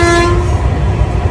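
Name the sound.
train at a railway station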